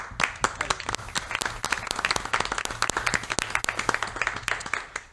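Applause from a studio audience on a French late-night entertainment show, dense individual claps close up, loud and steady for several seconds with no voices over it.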